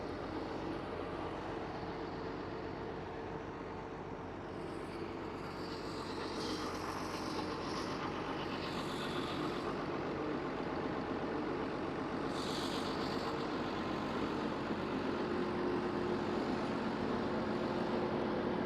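A small farm tractor engine runs steadily at a moderate distance, a continuous low drone that holds for the whole stretch.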